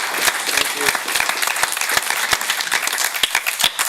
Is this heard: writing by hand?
no